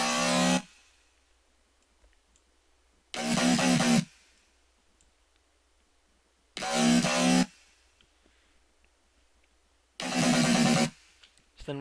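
A Serum-designed dubstep growl bass plays alone in four loud, distorted bursts of under a second each, separated by near-silent gaps, with a snarling midrange and a bright top.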